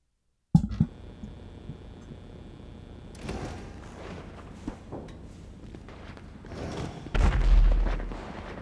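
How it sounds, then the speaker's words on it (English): Explosions and gunfire in GTA Online, a sniper attack inside a hangar, with scattered booms and a heavy, louder blast rumbling near the end over steady game background noise. "I hear explosions"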